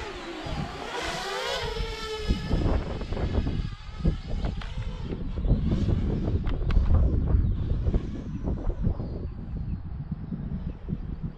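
Wind buffets a Parrot Bebop 2 drone in flight, a loud, continuous broadband rush with gusty swells over whining rotors and motor tones that rise and fall through the whole stretch.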